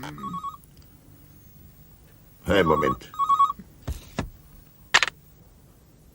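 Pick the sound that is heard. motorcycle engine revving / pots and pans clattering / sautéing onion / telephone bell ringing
telephone bell ringing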